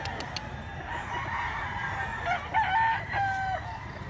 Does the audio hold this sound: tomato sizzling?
no